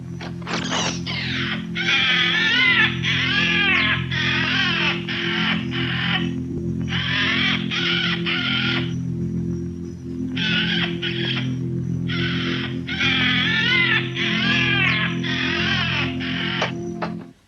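Bird cries recorded overhead during autumn migration, a dense run of loud, warbling calls repeating in bursts with short gaps, over a steady low hum throughout.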